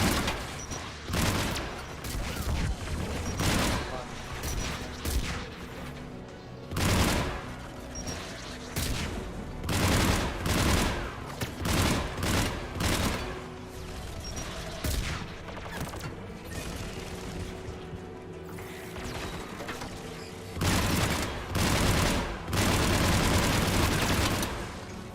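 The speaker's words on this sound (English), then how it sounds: "There! The guns protecting the tower!" Tower defence guns fire in Mass Effect 3, dense repeated bursts of loud gunfire with sharp cracks and deeper booms running almost continuously for the whole stretch, with no talk over it.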